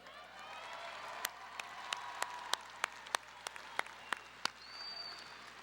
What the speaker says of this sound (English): a round of applause for Miss Cindy Magana and the Eastwood High